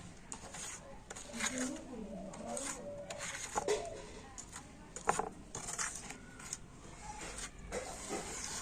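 A hot, thickening sweet mixture being scraped and gathered into the middle of a pan with a metal spatula, giving faint scrapes and light clinks beneath quiet steamy hiss, with a voice talking softly.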